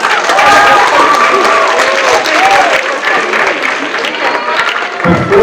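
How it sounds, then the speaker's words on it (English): Loud, sustained audience clapping and applause at a school writers' week event, a dense crowd wash with voices and cheering mixed in, holding steady throughout before a short dip near the end. "Clap it up!"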